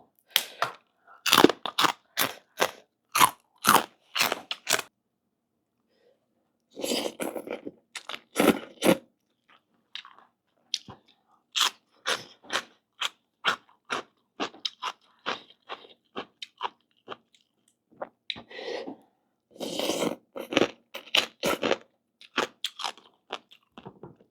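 Crispy pork rinds are crunched in rapid, sharp bites, loud and close. The crunches come in quick rhythmic runs separated by short pauses, with no talking.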